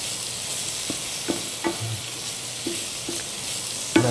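Bay leaves stir-fried in a hot pan while preparing braised duck breast with cabbage: a steady soft sizzle with scattered sharp taps and scrapes of the utensil, close and moderately loud.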